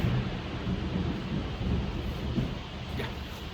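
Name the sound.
thunder during a heavy rainstorm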